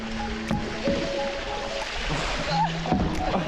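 Canoe paddling on river water in Kalbarri's gorges, with soft irregular splashing and water movement under a steady outdoor wash, with faint tonal background sounds and no clear talk.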